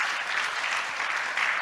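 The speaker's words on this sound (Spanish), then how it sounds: "Vamos a regalar un aplauso a las redes sociales." Steady applause from a church congregation during a live-streamed service in Acapulco, Guerrero, a dense, even wash of clapping hands held at the same level throughout without a break.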